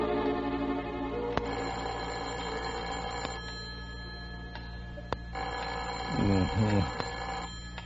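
A telephone rings in a radio drama, sharp repeated bell trills over a steady background of music, with a brief bright warble near the end.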